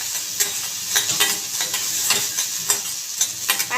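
Ginger garlic paste is stirred into onions frying in a pan for paneer tikka masala, a steady loud sizzle broken by repeated scraping strokes of the spoon, with no voices.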